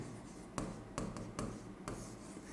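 Chalk or marker strokes on a board during a physics lecture, with a few short scratchy strokes against a steady room hiss and no talk.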